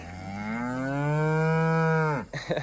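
A single long, loud moo from cattle out on a grazing paddock, a steady harmonic bellow of about two seconds that slides downward and breaks off at the end.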